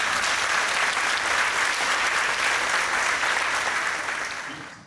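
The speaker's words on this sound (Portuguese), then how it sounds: "Uma salva de palmas" A crowd applauds steadily with dense, loud clapping that fades out at the end.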